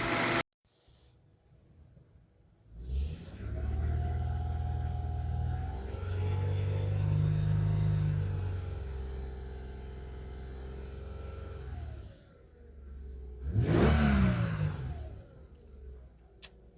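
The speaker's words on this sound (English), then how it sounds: "Usually I don't like to rev the engine too much, especially when the engine is cold" Cold 2015 Toyota Sienna 3.5 V6 engine being revved, with a fault on one ignition coil circuit: a low idle, a sustained rev rising and holding for several seconds, then a sharp short rev burst near the end, heard close.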